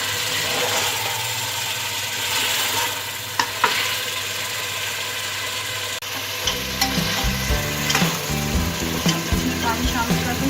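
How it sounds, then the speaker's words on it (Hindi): Close, steady sizzling of peeled tinda (round gourd) frying in a pot, with scraping and clinking as a spoon stirs it, busier in the second half. "पाँच से 7 मिनट तक मैं टिंडों को भून लूँगी।"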